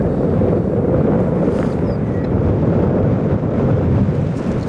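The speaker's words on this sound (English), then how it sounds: "Wow, this wind's strong." Strong wind blasts across the microphone on an outdoor disc golf course, a steady, heavy, low roar that runs unbroken throughout with no speech.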